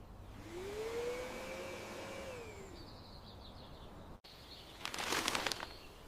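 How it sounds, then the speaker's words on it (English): A vacuum cleaner hums steadily over carpet with a gliding whine, then cuts off briefly before a burst of harsh, broadband roaring as it restarts nearby. "I vacuum the carpet"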